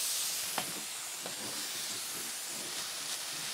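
A steamer hisses steadily while a green wig is styled, a continuous broad rushing hiss, close and even, with a few faint clicks and thumps under it.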